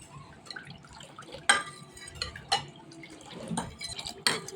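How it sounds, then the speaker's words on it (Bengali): A spoon stirring panakam ingredients, jaggery, camphor and spices, into water, with light clinks against the vessel, a few sharper taps and soft liquid sloshing, close and irregular, with no voices. "এখন আমি এটা ভালোভাবে মিশিয়ে নিচ্ছি।"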